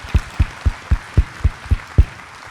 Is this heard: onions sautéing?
no